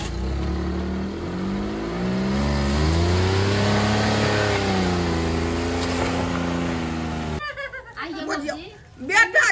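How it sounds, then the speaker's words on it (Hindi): A car engine revs and drones loudly and steadily for several seconds, pitch rising and falling as it drives, then gives way to other noise, with voices nearby. "चलू चलू ड्राइवर साहब गाड़ी खोलू।"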